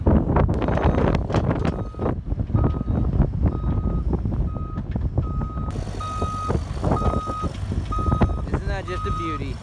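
A small rented Bobcat mini excavator runs nearby with a steady engine drone, its reversing alarm beeping at a regular pace, while wind buffets the microphone and a voice talks.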